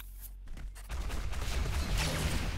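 Rocket fire and explosions in the arena shooter ShootMania during a competitive cup semi-final, a dense, continuous barrage of booming blasts and crackling shots that builds after a brief quieter opening.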